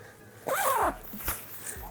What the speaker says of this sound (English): I just need to do this zipper up again.